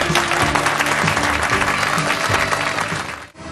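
A crowd of 70,000 at an NFL game between the Titans and Redskins in Nashville's LP Field cheers and applauds in a dense, continuous roar, with indistinct voices mixed in before it briefly dips at the end.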